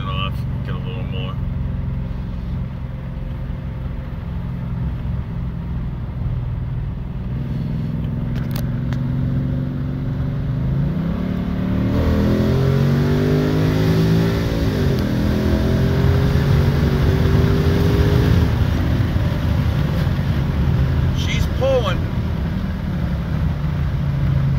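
Car with boost being tested, making several short acceleration pulls in traffic, engine rising and falling in pitch over a steady road rumble, with a person talking over it.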